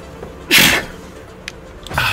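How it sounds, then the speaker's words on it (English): A single sharp sneeze bursts out close to the microphone during a livestream, followed by a short quieter exhale and a second breathy burst near the end. "I might sneeze."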